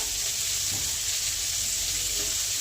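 Corn kernels and carrot pieces frying in a pan give a steady, close sizzle with faint stirring, and no voices are heard.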